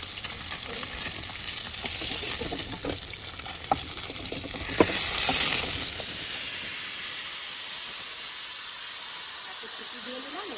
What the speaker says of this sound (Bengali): সিটি দিয়েছি ঠিকই, কিন্তু বেশিক্ষণ বাষ্পটা ভেতরে রাখবো না। আমি এয়ারটাকে বের করে দিচ্ছি।